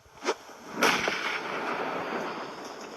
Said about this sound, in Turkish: Bomba attı ya of.